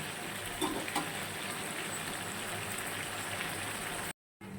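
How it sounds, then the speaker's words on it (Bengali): Chicken being sautéed in a pan for a Bengali home dish, giving a steady, close sizzle and hiss, broken near the end by a brief dropout of silence. "চিকেনটাকে এখন কষানো হচ্ছে, ভালো করে কষানো হয়ে যায়, তারপর নামাবো।"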